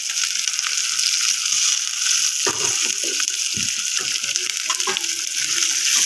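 Garam masala and tomato frying for a Chirala-style goat head curry, a steady close sizzle with scattered stirring scrapes and ladle clicks against the pan, no voices.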